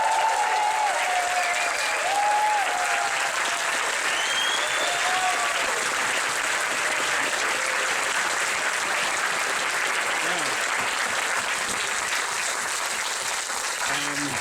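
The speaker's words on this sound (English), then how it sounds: "give him a big round of applause" A large audience gives Ken Loach, the radical filmmaker, a big round of applause at a left-wing political talk: dense, steady clapping from a crowd that fills the room and holds even for the whole stretch.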